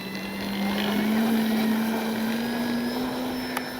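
An E-flite Carbon Z T-28 RC plane's electric motor whines steadily during a grass-field takeoff, its pitch slowly climbing as it holds loud and near across the whole stretch, with no talking.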